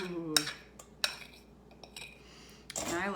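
A small spatula clinks and scrapes against a bowl while gathering leftover chocolate and peanut butter for muddy buddies, giving a few sharp taps and light scraping, with a voice speaking near the end.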